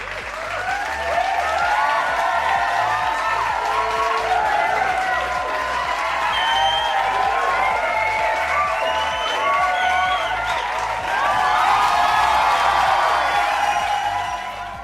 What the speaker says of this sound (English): Let's all give them a round of applause because they deserve it.